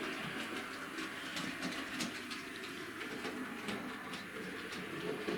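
A Fairburn Tank model locomotive running on a test track gives a faint, continuous rumble with light rhythmic clicking of wheels over rail joints, heard alone at low level.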